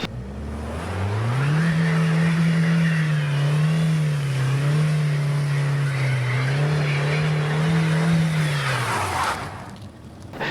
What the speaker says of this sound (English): You can see on my icy driveway, it just struggles to get up.